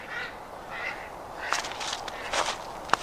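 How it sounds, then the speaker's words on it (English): Mallard ducks outdoors on a winter walk, a few scattered quacks and honking calls at moderate distance, repeated over several seconds with no talking. "Some ducks down there. Look like they're just mallards."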